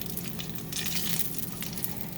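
Pork sizzles in a skillet with leftover bacon drippings and bits, a steady dense crackling fry close up, with no talking.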